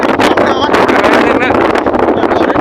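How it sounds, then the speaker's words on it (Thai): Strong outdoor wind buffets the microphone, giving a loud, continuous roar and rustle throughout, with people talking under it. "ลมก็ลมนี่หุ้ย"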